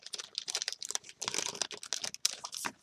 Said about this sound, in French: si je fais trop de bruit sur le clavier, ça va s'entendre